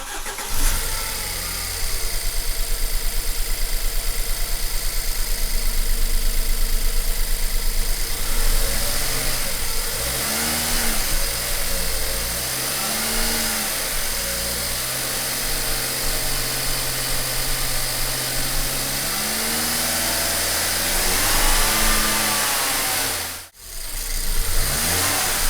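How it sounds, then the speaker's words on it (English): A rebuilt BMW N43 engine, repaired after bearing damage, runs loud and close. It holds a steady idle, then revs up and down in repeated swells before cutting out briefly near the end. "I'm going to start the engine again and run it for 5 minutes at about"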